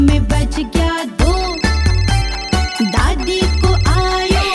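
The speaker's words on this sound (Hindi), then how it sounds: "दादी को आयो फोन" A phone ringtone plays as the grandmother calls, a bright, repeating electronic melody of quick, punchy notes with steady rhythm, loud and alone.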